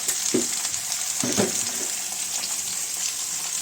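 Turmeric- and salt-seasoned food frying in a pan in a home kitchen, with a steady sizzle and two distinct scraping stirs early on, close and moderately loud.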